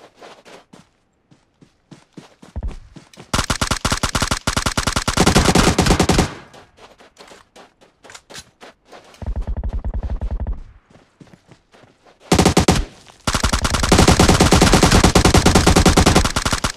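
Gunfire in PUBG on the Miramar map, with bursts of automatic weapon fire loud and close, separated by scattered single shots and footstep-like clicks, the heaviest sustained volleys around the middle and end.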